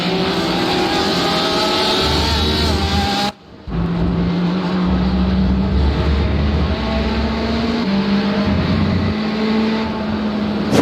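Ferrari race car engine at Road America in a racing video game, a loud droning engine note with shifting pitch steps and a brief dropout near the middle, no talking.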